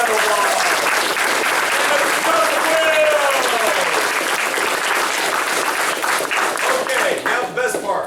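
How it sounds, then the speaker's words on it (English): Loud, sustained audience applause fills a martial arts school during a black belt test, dense clapping with a few cheers mixed in, continuing throughout before tapering slightly at the end. "Mr. Anthony DeSalvo, give him a big round of applause."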